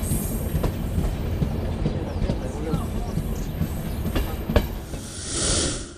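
A train locomotive rumbles past with rhythmic clacking of wheels over rail joints and occasional metallic squeals, loud and close, with faint voices underneath.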